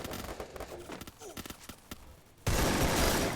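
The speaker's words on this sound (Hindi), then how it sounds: "एक बंदा पीछे की तरफ से फायरिंग करता है" Gunfire in the Free Fire battle royale video game: a run of sharp, scattered shots, then a sudden loud, dense burst of noise that holds to the end.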